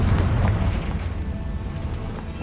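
A deep booming blast from the Confringo fire spell in Hogwarts Legacy, loud and close, its low rumble rolling out and fading gradually with no speech.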